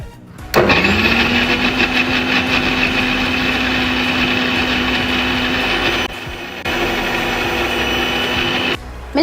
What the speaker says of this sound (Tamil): ஸோ இது எல்லாமே நம்ம பிளெண்ட் பண்ணி எடுத்துடலாம்.